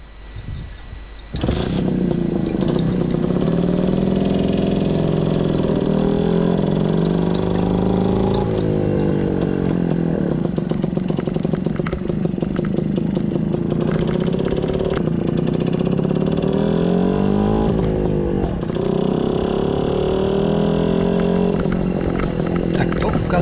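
A motorcycle engine runs steadily and loudly up close for over twenty seconds while being ridden home to a garage, with someone talking over the engine noise throughout.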